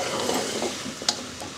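Mutton head curry, Thakali style, fries in a pan with a soft steady sizzle, a faint scrape of stirring and one brief metallic tick near the end.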